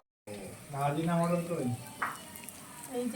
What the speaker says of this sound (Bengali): এদিকে ভাজাভাজি চলছে, সবজি